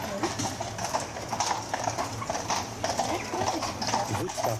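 Horses' hooves clip-clop steadily at close range on a paved street during a heritage-day outing in Oosterhout, with people talking alongside.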